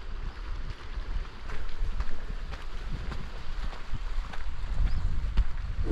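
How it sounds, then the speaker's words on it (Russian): Wind and sea surf along a quiet stretch of the Turkish coast among pines, a steady rushing wash with low rumbling gusts buffeting the microphone, continuous with no talking. "Иду просто и слушаю вот звук моря"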